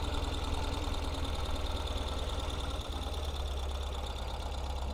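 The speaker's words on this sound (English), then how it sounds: "We're going to shift through a couple of gears." A Ural motorcycle with a custom build runs under a steady, dense engine drone with a rough, knocking pulse, close and continuous, a brief dip near the middle as a gear changes.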